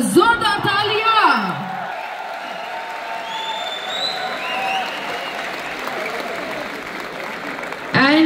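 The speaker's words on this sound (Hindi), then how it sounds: "मिस्टर उमेश पाल सर, जोरदार तालियां।" Big crowd applause with whoops and cheers in a Delhi stadium during an anniversary event honouring Mr. Umesh Pal; a voice shouts over the opening before sustained, loud clapping takes over, with whistles rising from the crowd.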